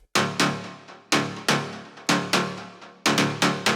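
A layered synth step from a melodic techno drop, built in FL Studio, plays alone. Bright plucked stabs fall in a syncopated repeating pattern, each one decaying quickly before the next hit lands.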